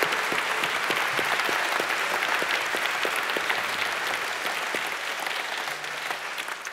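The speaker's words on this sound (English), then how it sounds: "give them a round of applause again" An audience applauding after a Christmas cantata: dense, sustained clapping from a crowd, close and full, tapering slightly toward the end with no speech over it.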